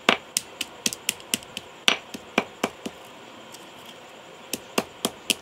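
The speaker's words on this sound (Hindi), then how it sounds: "एक पीस पकड़ें आप और इसको हथौड़ी से" A hammer pounds a piece of nesting material for lovebirds in a string of sharp, close knocks at a quick, uneven pace, pausing for about a second and a half before a final cluster of blows.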